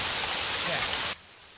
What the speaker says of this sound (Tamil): ஓ, மழை வேற பெய்யுதே.